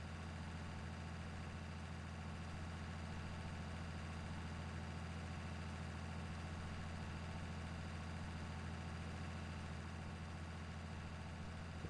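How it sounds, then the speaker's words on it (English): A farm tractor engine runs steadily at idle in an open field, a low, constant drone with a deep rumbling throb that holds even and unbroken throughout, with no talk over it. "And we have just enough power with this tractor."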